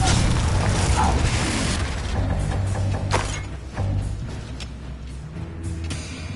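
Confringo fire spell blast in Hogwarts Legacy, a loud burst of crackling, clattering noise that fades into lighter mechanical rattles and scattered impacts over several seconds.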